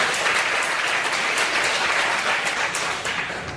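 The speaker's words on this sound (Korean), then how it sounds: "이 정도 되면 박수를 쳐줘야 돼요" A church congregation applauds during a sermon, a dense, steady round of clapping that stays loud throughout and eases slightly at the end.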